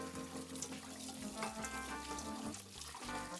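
Water runs from a tap over beef tongues in a colander, a steady rinsing splash that sits under background music or other sounds throughout.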